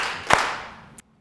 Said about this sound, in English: 2 claps for that.